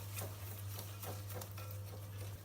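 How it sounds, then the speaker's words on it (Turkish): Sugar is whisked into waffle batter in a bowl, a quick rhythmic swishing and tapping of the whisk, close and fairly quiet over a low steady hum. "Şöyle güzelce pürüzsüz bir kıvama gelene dek çırpıyorum"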